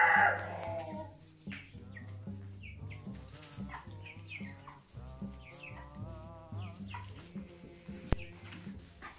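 Young broiler chickens in a cage inside a farm coop, giving steady overlapping clucks and peeping calls close by, with no one talking.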